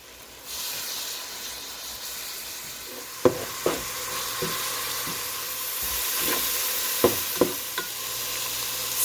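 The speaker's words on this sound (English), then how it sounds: "In a large pot, cook bacon and onion over medium heat, stirring occasionally until bacon is cooked and onion is tender" Bacon and onion frying over medium heat in a large pot: a steady loud sizzle with occasional sharp spoon knocks and scrapes as the pot is stirred, and no voices.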